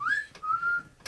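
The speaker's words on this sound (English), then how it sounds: "That was a whistle then." A person whistling inside an old haunted inn: two short rising, sustained tones in quick succession, clear and fairly close, separated by faint knocks.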